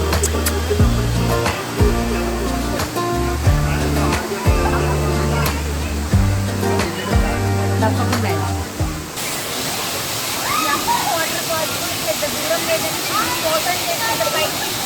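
A waterfall on the way to Annavaram roars as a steady broadband rush for the last third. Music plays over the first two thirds, and voices seem to be present.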